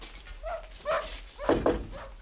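A dog barks several times at night outside a house, the sharp yaps spaced out at moderate distance, with low background rumble.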